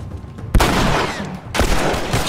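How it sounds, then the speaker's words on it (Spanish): Two sharp, loud gunshots in The Last of Us ring out about a second apart over a steady, noisy game ambience. "¡Ay! Fallé el disparo."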